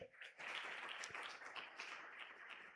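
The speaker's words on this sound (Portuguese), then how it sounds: "Aplauda o Senhor pelas ofertas" A church congregation at a Brazilian family worship service applauds the Lord for the offerings, producing a steady, dense wash of clapping that starts after a brief pause and continues loud and sustained throughout.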